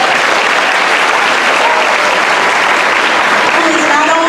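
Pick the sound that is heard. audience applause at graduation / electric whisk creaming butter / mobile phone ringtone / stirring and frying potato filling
audience applause at graduation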